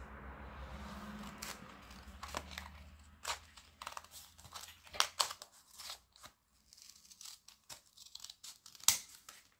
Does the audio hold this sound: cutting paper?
yes